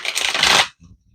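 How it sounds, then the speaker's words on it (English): A deck of tarot cards is shuffled by hand, a close, brisk riffling rustle for just over half a second that then stops, leaving faint soft handling noises. "So as I'm shuffling your advice deck"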